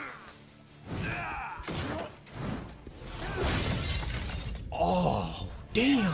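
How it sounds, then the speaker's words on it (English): Glass shatters in the video game Yakuza, several sharp breaking bursts at intervals amid thumps and in-game effects, with people talking over parts of it. "The glass sound effect, that was good."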